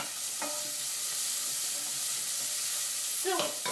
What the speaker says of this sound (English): the next thing we're going to do is add our sweet potatoes into the pot